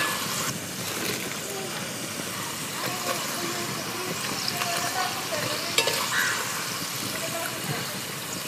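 Finger chips fry in hot oil, a dense steady sizzle and bubbling close by with occasional stirring scrapes, continuing evenly with no voices over it.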